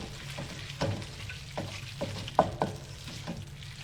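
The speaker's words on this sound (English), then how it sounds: "And then just stirring it together, make sure like the cheese melts and everything." Pasta is stirred together with pasta water and melting cheese in a pan, giving a soft sizzle under a handful of scraping and clacking utensil hits at an irregular pace, close and fairly quiet.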